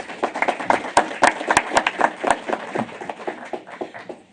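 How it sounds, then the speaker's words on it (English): An audience at a city council meeting claps in applause, a brisk burst of many overlapping hand claps that builds and then thins out gradually. "Let's give them a round of applause"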